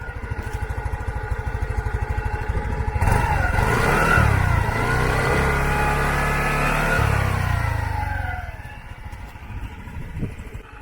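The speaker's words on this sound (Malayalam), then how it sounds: "അപ്പോൾ നമുക്കിതിൻ്റെ എക്സോസ്റ്റിൻ്റെ സൗണ്ടും കാര്യങ്ങളൊക്കെ നിങ്ങളൊന്ന് കേട്ട് നോക്കൂ." A 2024 TVS Jupiter 110cc scooter's engine and exhaust putter close by, then rev up into a loud sustained drone before easing back toward idle, with no talk over it.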